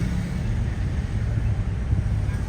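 An Aston Martin supercar idles roughly in Los Angeles traffic, a steady low, uneven engine rumble that holds for the whole stretch with street noise around it.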